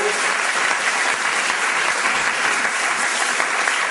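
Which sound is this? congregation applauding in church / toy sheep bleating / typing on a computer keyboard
congregation applauding in church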